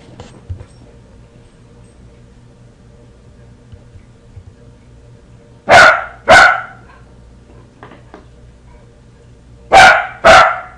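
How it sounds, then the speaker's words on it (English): A dachshund barks nearby in two pairs of sharp, loud barks, the second pair a few seconds after the first, against an otherwise quiet background. "He's a dachshund."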